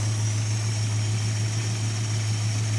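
A 1969 Dodge Dart GT V8 idles steadily with a loud, even low hum and a constant high whine, with a weak throttle return spring and no voices.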